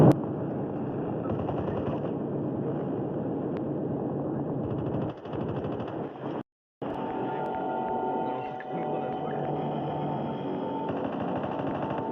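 Gunfire in a battle royale video game: a sustained burst of rapid automatic shots, loud and dense, with a brief cutout midway before it resumes.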